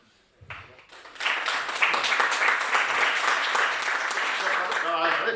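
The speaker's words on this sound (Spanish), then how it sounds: "Agradezco mucho las palmas" An audience at a book presentation and poetry reading bursts into sustained, steady clapping after a brief pause, loud and even for several seconds without fading.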